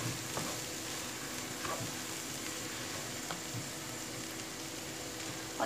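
Çorum bulgur frying in oil in a pan is stirred, producing a steady, moderate sizzle with faint scraping and rustling as the grains are turned, without any speech.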